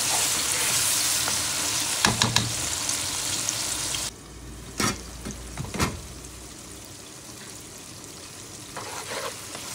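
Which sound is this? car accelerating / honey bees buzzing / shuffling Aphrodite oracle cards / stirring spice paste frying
stirring spice paste frying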